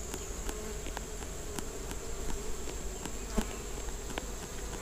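Uruçu boca de renda stingless bees swarming defensively give off a steady, close buzz with fine insect whine. Scattered faint ticks and small bumps are heard, and no one speaks.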